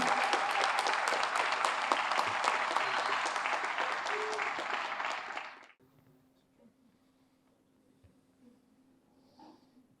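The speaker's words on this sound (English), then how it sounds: "How about another round of applause for Sandra Ramirez?" Banquet audience at a firefighters' awards dinner applauds an award winner with dense, sustained clapping that cuts off abruptly about halfway, leaving a quiet room with faint background noise.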